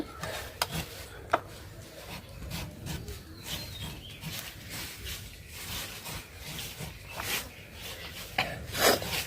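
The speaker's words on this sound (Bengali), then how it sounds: "আমটা আমি ভালোভাবে ধুয়ে নিছি, এখন কেটে নেব।" Raw green mangoes are cut up for a sweet, sour and spicy pickle, giving a rough, rasping scrape with scattered sharp knocks and a few clicks, steady and close with no talking.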